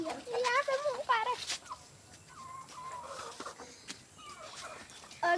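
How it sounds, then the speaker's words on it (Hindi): A hen in a village garden gives a quick run of clucks up close at the start, then fainter calls, while a person talks nearby. "और ये देखिए हमारी मुर्गी है"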